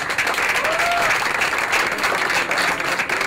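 A ceremony audience gives dense, steady applause for the Casablanca winners at an art exhibition on life and death, a loud continuous wash of many hands clapping throughout.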